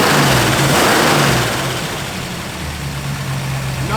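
A 1964 Chevrolet Impala with a mildly upgraded cam gives a short, loud rev close by, then the engine settles back to a smooth, lower idle for the rest of the clip.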